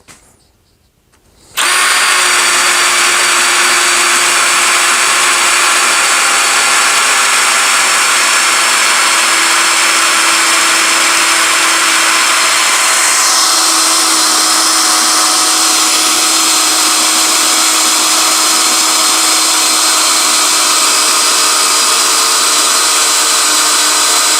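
A Parkside PPBSA 20 Li A1 cordless drill-driver in first gear starts abruptly after a brief silence and keeps up a loud, steady motor whine with no voices.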